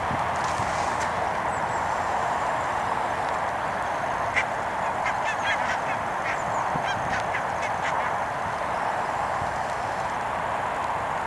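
A large flock of barnacle geese honks continuously in the distance, a steady overlapping clamor with occasional clearer calls over a windy outdoor hiss.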